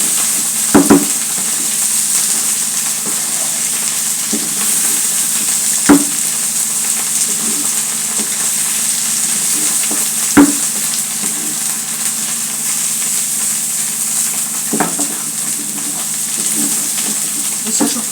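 Dried shrimp frying in oil, a steady sizzle and hiss throughout, broken by a few sharp clinks and stirring knocks spaced several seconds apart.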